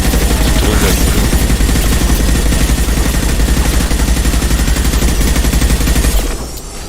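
Sustained rapid gunfire from the video game Mass Effect 2, a loud, dense stream of automatic shots with no break for about six seconds before cutting off abruptly.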